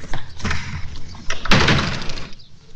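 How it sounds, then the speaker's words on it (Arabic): Door slammed shut indoors, one loud sharp bang at mid-clip after muffled shuffling and handling noises, close and forceful. "ما تقفل الباب زي البني ادمين يعني انت"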